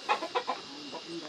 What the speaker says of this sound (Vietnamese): chú có gà trong chuồng này